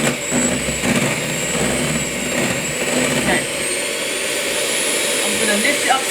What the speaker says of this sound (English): we whisk it to make it nice and light and fluffy